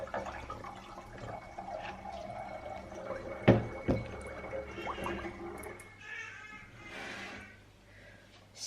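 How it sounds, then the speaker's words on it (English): Cashew milk pours into a metal container with a hollow splashing gurgle, a couple of clanks partway through, then the stream tapers off. "We're just gonna use this metal bad boy and pour in the milk."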